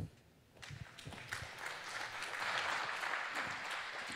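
Applause swells from a conference audience at a lightning talks session, starting quietly and building into a steady, dense wash of clapping that holds for a few seconds with no voices over it.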